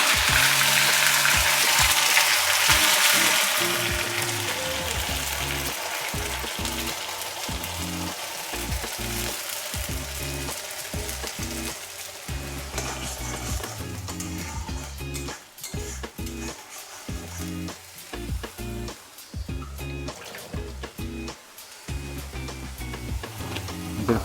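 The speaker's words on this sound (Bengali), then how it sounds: "এবার তেলটা আমাদের গরম হয়ে এসছে। আমরা 3টে মিডিয়াম সাইজের পেঁয়াজ দিয়ে দিলাম।" Three medium onions fry in hot oil in a kadai, a loud steady sizzle that surges at first then settles, with frequent scraping stirs and clinks of a utensil against the pan.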